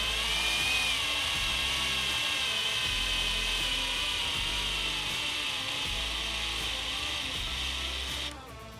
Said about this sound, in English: I just use a drill with the Phillips on it.